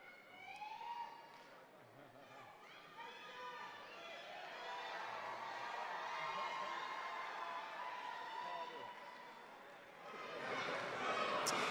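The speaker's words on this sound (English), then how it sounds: "what about this fantastic reception here for you from all these Welsh fans?" Welsh fans in a crowd at St David's Hall, Cardiff, cheer and shout during a boxing public workout, a loud sustained roar with whistles that swells again near the end, heard from within the hall.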